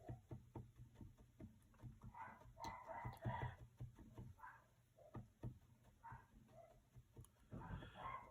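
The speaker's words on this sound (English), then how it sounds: "my little dogs are having a lot of fun barking at the neighbors right now." Small dogs barking at neighbours in short, sharp yapping bursts, somewhat distant and fairly faint, over a steady low background hum.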